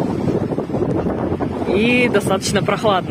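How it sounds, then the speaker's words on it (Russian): Strong wind buffets the microphone at a scenic outdoor spot in America, a constant low rumble beneath a voice speaking throughout. "Сильный ветер дует."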